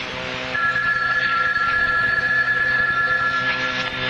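A house telephone rings loudly and steadily in a long, sustained electronic trill, heard alone over a low room hum.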